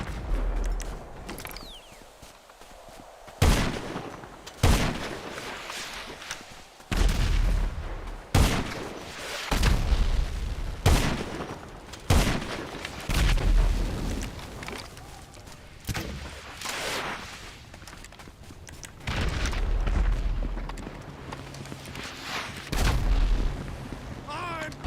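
Rocket explosions and bursts of gunfire in GTA Online, loud booming blasts repeating irregularly through a chaotic firefight with a rumbling background.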